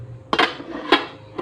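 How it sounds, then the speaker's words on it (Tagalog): Plates and cutlery being washed, with a few sharp ceramic and metal clinks at irregular intervals over faint running background noise, close by and without talk. "Hugas tayo ng plato kasi matulungan man lang natin ang ating kasama"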